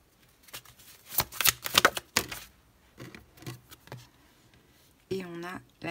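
Tarot cards being handled and laid out on a table: scattered papery slaps, rustles and sliding shuffles in short bursts, close by, with a brief voice near the end.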